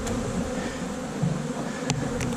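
Honey bees buzz around an opened hive in a January beehive check in South Carolina, a dense, steady swarm hum that is loud and close, with no speech.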